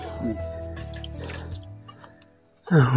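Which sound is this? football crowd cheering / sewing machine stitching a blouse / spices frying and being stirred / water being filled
water being filled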